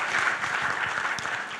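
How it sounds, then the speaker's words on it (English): Dense, continuous applause from a conference audience at an opening ceremony fills the room, steady and fairly loud throughout with no pause. "round of applause, please."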